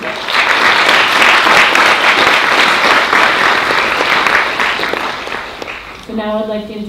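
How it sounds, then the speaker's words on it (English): An audience at a trans health event gives a round of applause for the organizers, loud steady clapping that swells and then fades out before a voice begins speaking at the end. "give everyone a round of applause for organizing today"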